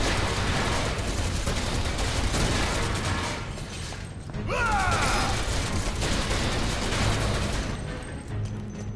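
Gunfire from Final Fantasy VII Remake, a dense continuous fusillade of rapid shots that fills the clip at steady loudness, with a brief dip near the middle, under busy game effects and no talk.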